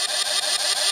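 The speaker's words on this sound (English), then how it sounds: "you're just going to pull the clutch. Get your standby noise." Kamen Rider Accel Driver toy belt giving its standby sound once the clutch is pulled: a steady, loud electronic droning loop with faint rhythmic pulses, close and alone with no talking.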